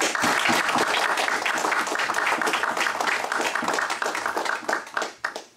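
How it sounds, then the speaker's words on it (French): An audience at a history talk bursts into sustained, dense applause, many hands clapping steadily before the sound thins and tapers off into scattered final claps. "On va vous applaudir bien fort."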